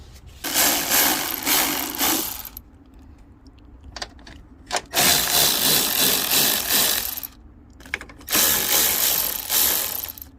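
Hand ratchet loosening the suspension strut bolts on an Infiniti G35 sedan, three long bursts of rapid clicking separated by short pauses, loud and close with no talking.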